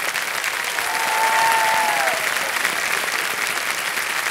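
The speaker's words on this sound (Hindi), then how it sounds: "तालियां बजते रहे इनके लिए" A studio audience on a Kaun Banega Crorepati game show claps in a dense, steady wash of applause throughout, with a brief tonal whistle-like sound riding over it near the middle.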